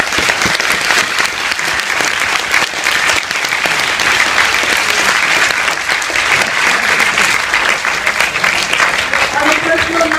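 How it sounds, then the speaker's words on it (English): Loud, sustained applause from a large audience closes a formal debate, a thick continuous wash of clapping lasting ten seconds, with a few voices faintly audible beneath it. "a massive round of applause."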